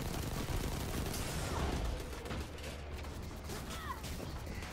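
Rapid gunfire bursts from the Destiny 2 Forsaken shooter game, dense and continuous, louder in the first two seconds then settling into steady crackling fire with mechanical clatter.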